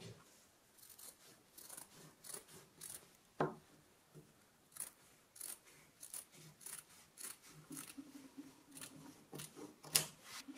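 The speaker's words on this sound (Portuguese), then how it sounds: "Cortar a meio." Scissors snip through folded cloth for a fabric face mask, a steady run of close, crisp cuts and rasping slides with a few sharper clicks, no voices.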